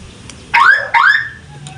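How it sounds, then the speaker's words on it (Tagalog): Two loud rising electronic chirps in quick succession from an aftermarket car alarm system installed on an Isuzu Crosswind, heard up close with no talking. "Mo alarm na, uh, magtingog lang yung alarm mga boss."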